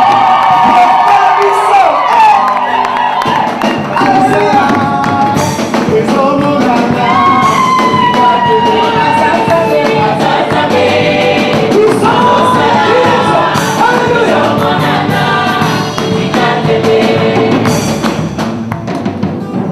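A wedding congregation in a church cheers and acclaims loudly for the pastoral couple, a dense, continuous crowd roar of shouts, whoops and voices carried over music, close and sustained throughout.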